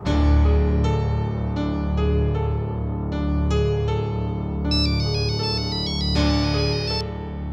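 A phone ringtone plays during an outgoing call, a bright synthesized melody repeating its phrases steadily and loudly for several seconds with no voices.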